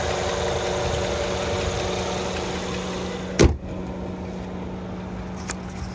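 The V8 of a 2014 Mercedes-Benz S550 S-Class idles in a low, smooth, steady hum. A brief sharp click or thump cuts in midway, and no one speaks.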